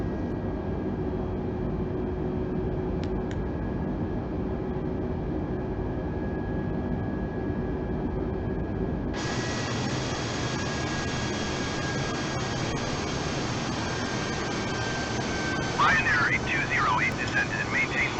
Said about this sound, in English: the aircraft is now climbing at the desired vertical speed